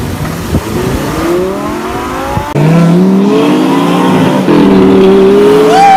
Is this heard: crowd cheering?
no